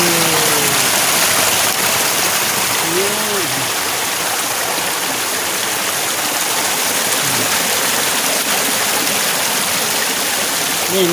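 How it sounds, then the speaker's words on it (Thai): Water from a northern canal rushes steadily along a stream, a loud, constant broadband wash like a small waterfall, with faint bird calls and a voice in the background. "นี่น้ำมันมาแต่คลองเหนือ"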